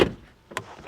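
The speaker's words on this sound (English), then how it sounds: "let's do a door sound check" BMW iX xDrive50 electric SUV door with frameless windows shutting: a solid thud at the start, then a second brief latch click, close by and alone.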